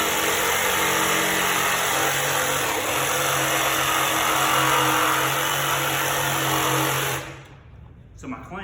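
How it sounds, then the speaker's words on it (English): A jigsaw cuts through wood with a loud, continuous buzzing rasp for about seven seconds before it stops abruptly, leaving quiet and a few faint knocks. "Most of the time with this saw, you'll know when you cut it."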